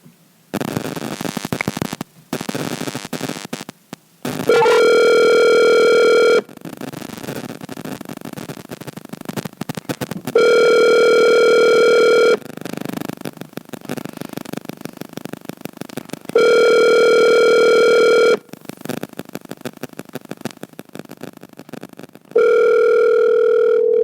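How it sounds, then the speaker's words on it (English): A phone ringback tone from an outgoing call repeats four times, each steady buzzing tone lasting about two seconds, with crackly gaps and background noise between the rings. "So let's call him right now. Calling Dan"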